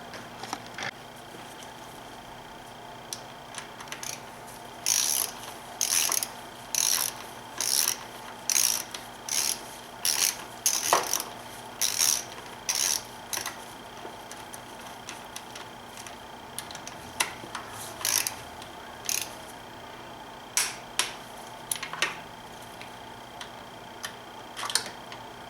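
Ratchet wrench snugging down valve cover bolts on a BMW N52 engine, repeated bursts of quick clicking strokes separated by pauses, close and clear.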